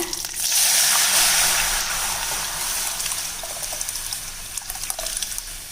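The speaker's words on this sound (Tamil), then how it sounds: "இப்போ நம்ம ரசக்கலவை இதில் சேர்த்துடலாங்க" Rasam mixture pours into a hot tempering of mustard seeds, curry leaves and dried red chilli, a loud gushing splash and hiss that slowly settles into a softer bubbling sizzle.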